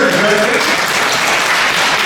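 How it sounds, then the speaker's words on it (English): Audience clapping and cheering at a public drop-in event and presentation on the pedestrianization of Yonge Street at 20 Grosvenor Street, a dense, steady wash of applause with voices mixed in, filling the whole moment. "Clap and cheer."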